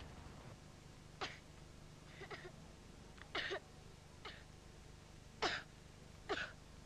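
A child coughs at night in a bedroom, a string of short, dry, tickly coughs spaced out irregularly, fairly faint against a steady low background hum.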